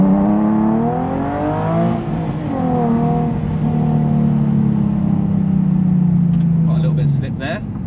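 Nissan 370Z Nismo engine pulling hard under acceleration with maximum traction control engaged, a steady rising and falling drone that fills the clip before cutting off near the end with a brief clatter.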